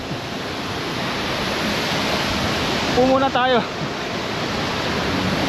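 Bisibis Falls in Mauban, Quezon pours with a steady, loud broadband rush that runs through the whole stretch, while a person speaks briefly near the middle.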